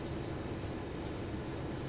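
A heavy train rolls along in Train Sim World 5 on the approach to Hamilton Yard, a continuous dense rumbling roar with no breaks, steady and fairly loud throughout.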